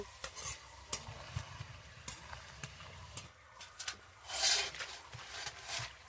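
Thin tomato chips frying in hot oil, with a quiet bubbling sizzle broken by sharp clicks and scrapes of a utensil, and one louder hissing burst partway through.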